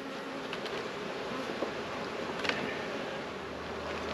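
Honeybees buzz around an open beehive frame, making a soft, continuous hum at a low, even level throughout, with no voices.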